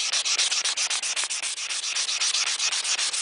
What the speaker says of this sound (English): I continue to try to move my paper around so that I get new sandpaper on it, because the grit gets wore down very fast from stainless.